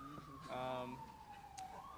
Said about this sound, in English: There's a siren in the background